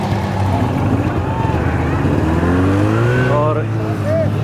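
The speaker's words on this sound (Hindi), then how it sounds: "अभी स्नो बाइक दिखाऊंगा मैं, ये ऊपर से नीचे आते हुए" A snow bike comes down a snowy slope at Zojila Pass in Kashmir. Its engine whines and drones loud and close, its pitch sweeping upward as it revs, over steady background noise.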